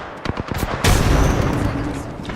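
Video game gunfire: a rapid burst of sharp shots followed by a heavy blast that decays into a noisy rumble, all loud and close.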